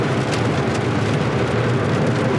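Rain pours steadily on the roof of a 2018 Kia K9 3.8 AWD sedan, a dense, even, continuous patter heard from inside the car.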